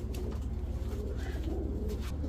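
Caged pigeons, including racers, Giribaz and Pakistani teddy birds, coo with low continuous murmuring beneath a steady hum and background noise, without any speech.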